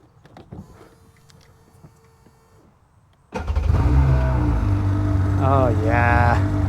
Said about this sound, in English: One last crank now that it sat for a while.